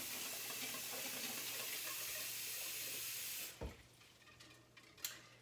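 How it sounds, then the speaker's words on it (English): Cold tap water runs steadily into a pot of boiled eggs, a loud continuous splashing stream that stops abruptly, followed by a few small drips and clinks. "I'm going to add cold water all over them and let them sit in this and cool for a little bit."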